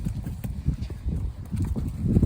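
A horse walks away across a round pen, its hooves clip-clopping in a steady, soft rhythm of low thuds that carries on for the whole stretch at close to middle distance.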